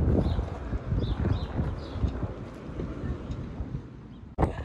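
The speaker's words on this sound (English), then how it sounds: "It was super windy here early in the morning at the beach" Strong wind buffets the microphone at Ogunquit Beach, Maine, early in the morning, a steady close rumble with a sharp gust near the end.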